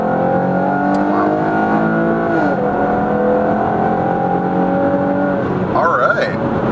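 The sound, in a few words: car exhaust note revving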